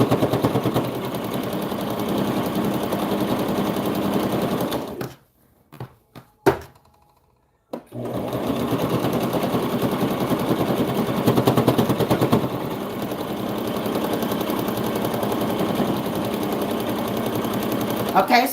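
A sewing machine stitches a satin fabric ruffle with a close, steady, rapid needle chatter. It stops for a couple of seconds with a few thunks, then runs continuously again.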